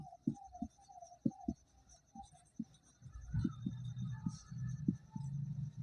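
Pen strokes on paper during a maths lesson, a series of short scratchy marks in an uneven rhythm with brief pauses, close and fairly quiet over a faint room hum.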